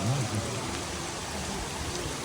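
Steady outdoor rain falls during unexpectedly hot weather, a dense continuous hiss of drops that stays even and fairly loud from start to finish with no clear voices.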